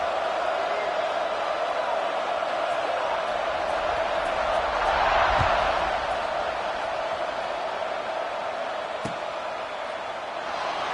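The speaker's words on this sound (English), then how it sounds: "this crowd is buzzing after that last score" A football stadium crowd buzzes after a score, a steady broad murmur of many voices that swells to a louder peak midway, punctuated by a single sharp thump, then settles back.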